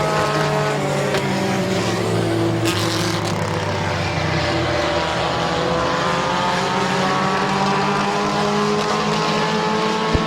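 Several race cars roar around the Midvale Speedway oval, their engines a loud, continuous, overlapping drone whose pitch sweeps up and down as the cars pass, with no break for the whole stretch.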